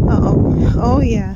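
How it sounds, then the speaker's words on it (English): Wind buffets a microphone outdoors during a winter snowstorm, a loud low rumbling gust under a person speaking briefly. "It's windy."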